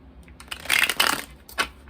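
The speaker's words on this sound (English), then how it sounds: "y'all already know I have a hard time shuffling this deck" A deck of playing cards is shuffled by hand in a couple of quick riffle bursts, close and crisp, with brief pauses between.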